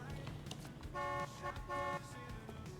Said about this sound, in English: Don't honk at me. I'm the police.